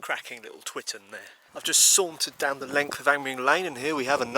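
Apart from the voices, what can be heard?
No everyday noises stand out.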